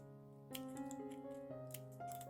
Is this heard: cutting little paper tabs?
yes